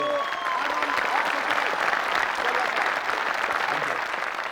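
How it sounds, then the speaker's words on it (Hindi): Steady applause from a television talk show studio audience, continuous and fairly loud throughout. "Give a big hand, ladies and gentlemen."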